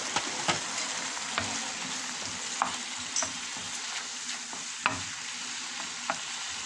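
Pork fries in a pan with a continuous loud sizzle and scattered sharp pops and stirring scrapes throughout, with no talking.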